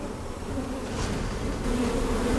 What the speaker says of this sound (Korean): 작업이 계속되자 벌들의 움직임이 심상치 않은데요.